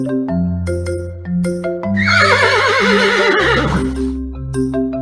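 A loud horse whinny rises and quavers over bright, plinking music, then trails off as the melody continues alone.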